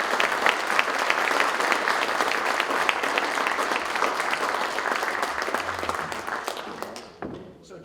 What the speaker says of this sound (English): Ladies and gentlemen, let's give them an initial round of applause.